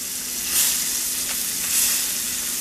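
Blackened fish for keto tacos fries in a pan, making a loud, steady close-up sizzle that swells slightly twice, with no talking.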